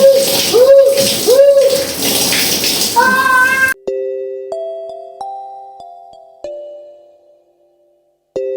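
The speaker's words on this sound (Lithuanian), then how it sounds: "čia va toksai dušas įdomus. Nelabai stipri teka, bet šiltas." A hotel shower in Pescara, Italy runs in a steady, close hiss of warm water for a few seconds with high tonal squeaks over it, then gives way to quiet sustained electronic tones.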